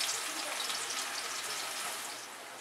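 Banana chips frying in hot oil in a kadai (wok), giving a steady, close hiss and sizzle that holds at an even level and eases off slightly toward the end, with no talking.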